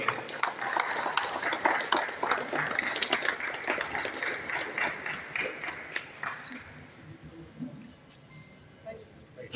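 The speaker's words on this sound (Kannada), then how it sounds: "ಜೋರಾದ ಒಂದು ಚಪ್ಪಾಳೆ ನಿಮ್ಮಿಂದ ನಿರೀಕ್ಷೆಯನ್ನು ಮಾಡ್ತಾ ಇದ್ದೀನಿ" Loud crowd applause at an Ambedkar Jayanti celebration, dense clapping for about six seconds before thinning into scattered claps and quieter hall noise.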